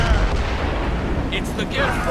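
Mortar fire in the video game Assassin's Creed Rogue, heavy booming blasts with rumbling tails and a few sharp pops, mixed with shouted voices.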